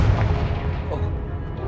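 Fiery Confringo spell blasts in the Hogwarts Legacy video game, a dense, steady rumble of booming bursts with low-end weight running through the whole moment.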